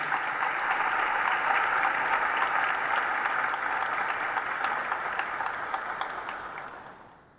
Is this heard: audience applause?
yes